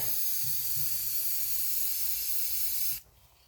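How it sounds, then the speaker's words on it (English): Spray paint hisses onto a Remington 783 rifle in one steady, loud burst. It lasts about three seconds, then cuts off abruptly. "We'll spray it up here."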